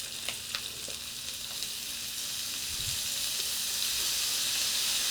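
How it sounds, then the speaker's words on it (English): Vegetables for a stir fry sizzle steadily in a preheated skillet, a close, bright hiss that swells slightly louder as they settle into the hot pan, with no talking. "now that our skillet is preheated, we will add our first round of veggies. Nice little sizzle we was waiting for."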